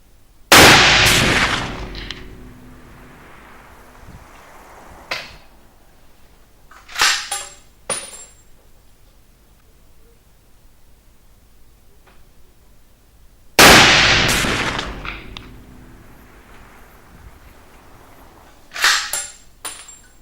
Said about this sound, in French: Alors je vais faire une série de 3 tirs, de manière à modifier le réglage si c'est nécessaire.